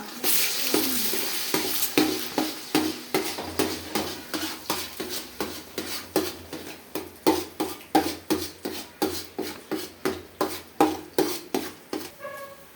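Vegetables fry in groundnut oil for homemade chicken rice, stirred with a steady, rhythmic run of utensil scrapes and clinks against the pan over a continuous sizzle, close and fairly loud.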